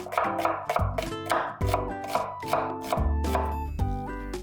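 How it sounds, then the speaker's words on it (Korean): Thin slicing of onion with a knife on a board, a run of sharp chopping taps repeated over several seconds with music playing underneath, no voices. "양파는 얇게 채 썰어주세요."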